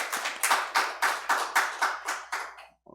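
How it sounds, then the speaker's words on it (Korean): A church congregation claps together in a slow, even unison rhythm of about eight strong hand claps, close and clear in a quiet room, then stops abruptly. "우리 수고하는 모두를 위해 우리 박수 한번 할까요?"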